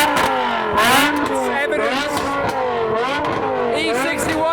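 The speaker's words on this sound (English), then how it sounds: "Someone else is revving." Car engines revving at a modified car meet, with throaty rising and falling revs cycling repeatedly at close range, mixed with people talking over the noise.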